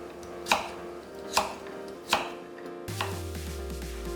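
A knife chops cucumber into 1 cm pieces on a board, three sharp, evenly spaced thuds about a second apart. A low hum then starts, and no one speaks.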